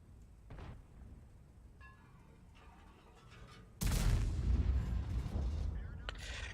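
Tank cannon fire with high-penetration rounds in World of Tanks, a faint distant thud early on, then a sudden heavy blast with a long rumbling tail that stays loud, with a voice talking softly underneath.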